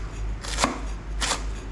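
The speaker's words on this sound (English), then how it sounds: "The expert chopping lemongrass." A kitchen knife chopping lemongrass on a board while a Thai jungle curry is prepared in Hua Hin, two crisp, separated cuts, close and clear, with no voices.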